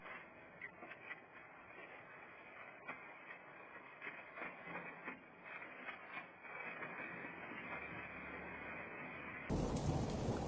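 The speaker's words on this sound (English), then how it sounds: "A powerful storm in Kurgan ripped metal sheets into the air, plunging the whole area into chaos." A powerful thunderstorm over Kurgan, with steady heavy rain and wind roaring without a break and scattered cracks and rumbles of thunder, ending in a sudden louder burst.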